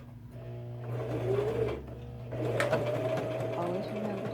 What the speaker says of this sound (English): We're going to sew a 1/4 inch seam across the top on each side.